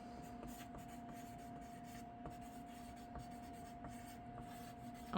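A pen writing a note on paper, a faint close scratching and rubbing with small irregular strokes over a steady low hum.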